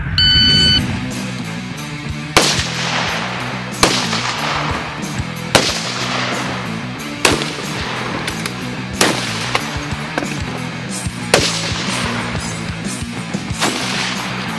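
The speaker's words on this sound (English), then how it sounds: "he's going to move down to the far barricade, and we're going to engage the pistol targets down there" Pistol gunshots ring out at a shooting range as a shooter engages targets from a far barricade, a series of about nine sharp, loud cracks spaced at fairly regular intervals with a low background hum.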